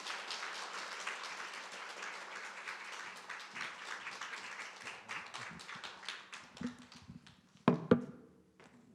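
A church congregation claps to welcome a pastor at a service, a broad patter of many hands that thins out toward the end, with a few louder taps near the close and some faint voices.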